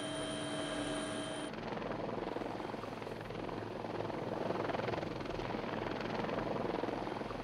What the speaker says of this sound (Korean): 경찰 헬기가 거의 매일같이 최루액을 뿌려댔다.